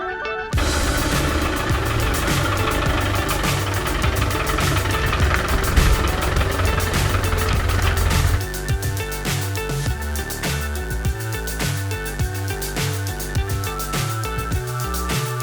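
A car engine, just fitted with a repaired harmonic damper, runs with a steady hum and rhythmic pulsing, close and continuous, then settles into a choppier beat partway through.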